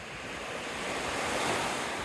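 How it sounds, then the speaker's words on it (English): Calm ocean waves on a beach at low tide, a soft continuous surf wash swelling slightly, with some wind buffeting the microphone. "the waves are pretty calm, all things considered"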